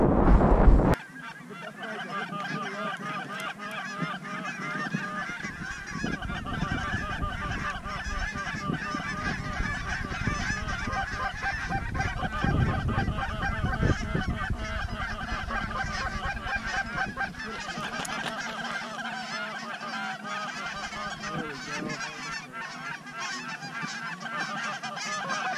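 Flock of geese on a goose hunt honking continuously, a dense overlapping chorus of calls from near and far that holds steady for the whole stretch, with no talk.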